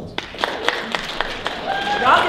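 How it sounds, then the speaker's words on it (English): Crowd applause at a cosplay fashion show, scattered claps building into a fuller round near the end, with voices and a shout over it. "But Simon says, give them a round of applause."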